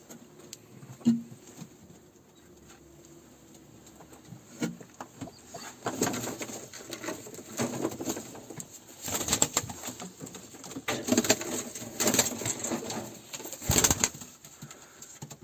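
Pigeons cooing close by with bursts of wing flapping, young birds alongside their parents in a loft; soft coos recur throughout, with louder rustling flaps around the middle and toward the end.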